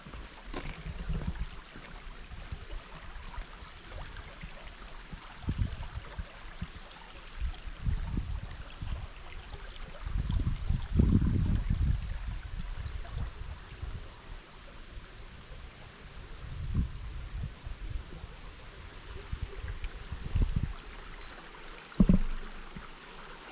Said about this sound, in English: Let's take a peek at the creek.